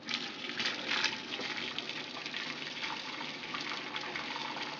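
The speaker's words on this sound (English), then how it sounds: "we're going to strain the hops and as much as a trub as we can out into here. It's going to splash, go very easy." Homebrew beer wort poured through a strainer to catch hops and trub, a steady splashing gush of liquid that runs without a break at moderate level, with no voices.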